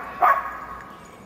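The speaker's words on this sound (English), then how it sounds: "Here a group of golden retrievers frolic underneath the shaded canopy of the trees." A single short bark from a golden retriever rings out on a shaded forest trail in Winchester, Massachusetts, moderately close, followed by quiet outdoor air.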